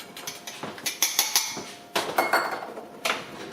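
A utensil mixes flour into melted dairy-free butter in a pan to start a roux, giving a close series of quick metallic clinks and scrapes in uneven bursts, with no voices.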